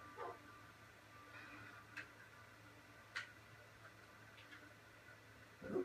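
A dog in the video game Minecraft gives faint, sparse yips and short barks spread across a quiet stretch, with a soft ticking sound in the background and no talking.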